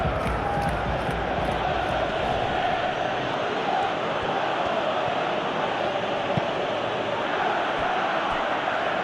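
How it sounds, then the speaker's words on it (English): A crowd roars in a PES 2021 football match simulation: a dense, steady wash of stadium noise that stays loud and unbroken throughout. "there's a real sense that the momentum has shifted here, Peter, and the crowd are reacting to that now."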